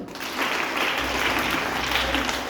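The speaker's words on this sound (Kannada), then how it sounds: "ವೆರಿ ಗುಡ್, ಚಪ್ಪಾಳೆ ಅನ್ನೋದು" A classroom of students claps for a correct answer, a brief burst of steady applause from a small group nearby that starts abruptly and holds evenly to the end.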